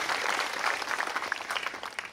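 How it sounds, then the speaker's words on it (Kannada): A crowd applauds at an annual feast of the Infant Jesus during a church gathering, a dense steady patter of many hands clapping at moderate distance, fairly loud throughout. "ಮತ್ತೊಮ್ಮೆ ಜೋರಾಗಿ ಚಪ್ಪಾಳೆ ತಟ್ಟಿ ಅವರನ್ನು ಅಭಿನಂದಿಸ್ತೇವೆ."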